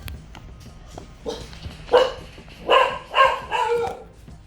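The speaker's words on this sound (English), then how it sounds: "Had to pause there so I could finish telling my story before my dog really interrupted me." Dog barking indoors, a few soft early yips building into several loud, close barks in quick bursts toward the end, with no talk over them.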